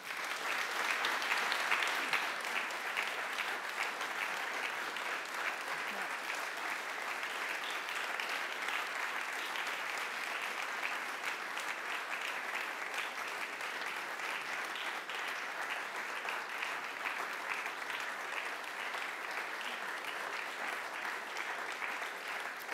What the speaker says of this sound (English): please give us a big applause for these fantastic, both sponsors and awardees